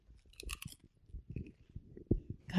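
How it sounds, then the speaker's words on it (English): Pringles potato chips being chewed close up, a series of irregular crisp crunches and bites, fairly quiet with a louder crunch near the end, no talk. "Pringles, the crunch you can taste."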